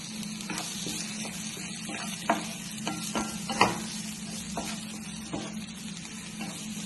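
Chopped garlic and green chili sautéing in a pan, a steady low sizzle with scattered stirring clicks and scrapes of a spoon, close and alone without any voices.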